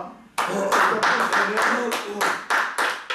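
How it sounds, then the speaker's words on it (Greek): A burst of hand clapping from a small group starts abruptly and continues steadily, fairly close and loud, with voices mixed in. "Ένα χειροκρότημα"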